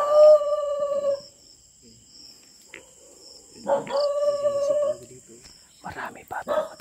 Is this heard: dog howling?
yes